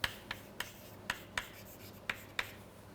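Capital letters are written on a board during a lecture, with quiet, separate taps and strokes falling in an uneven rhythm against a hushed room.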